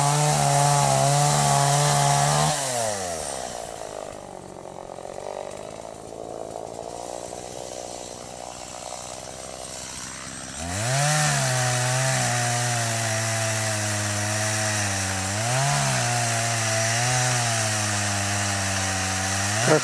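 A chainsaw roars at close range felling a tree at its base, bogging down into the wood midway, then revving back up to a steady high whine as it keeps cutting.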